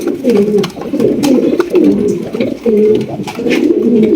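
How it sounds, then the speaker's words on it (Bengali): Low, throaty cooing from a pair of Danish pigeons repeats in rolling phrases, close and steady, with soft rustling in the background. "এখানে রয়েছে এক জোড়া ডেনিশ কবুতর"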